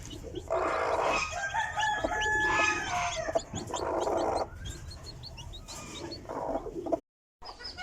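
Chickens cluck and chatter nearby while a rooster crows, layered bird calls continuing steadily before a brief cut to silence near the end.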